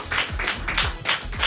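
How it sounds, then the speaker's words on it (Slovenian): A small studio audience at an intimate Radio Capris concert claps in short, regular bursts, close and fairly loud, with no talk over it. "več kot zaslužen aplavz"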